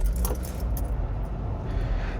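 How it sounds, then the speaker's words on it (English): A 2005 Volvo S60 2.0T five-cylinder engine starting, with a brief jingle of keys and a muffled, steady low rumble that sounds distant through the cabin. "So let's fire the 5-cylinder engine into life."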